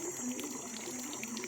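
Water pours steadily into a sprayer tank to mix pesticide for spraying a paddy field, giving a continuous close gushing and splashing for the whole moment, with no voices.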